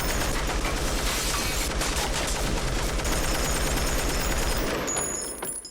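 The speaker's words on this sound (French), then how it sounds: "Walter installe une mitrailleuse autonome dans son coffre." An M60 machine gun mounted in a car trunk fires a long, continuous burst in a Breaking Bad scene, a dense, loud rattle that holds for several seconds before it trails off.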